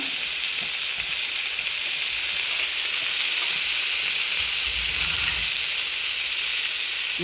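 Butter sizzling on fish grilling in a pan, a loud, steady frying hiss that continues without a break, with no talking over it.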